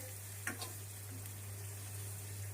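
Green chillies frying in a pan for dhokla, a steady soft sizzle with a couple of brief stirring scrapes near the start, close and quiet, over a low constant hum.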